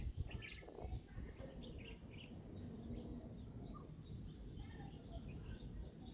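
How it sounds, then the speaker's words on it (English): Wild birds chirping and calling outside in short scattered bursts, faint and somewhat distant over a low rumbling background. "what kind of bird is that?"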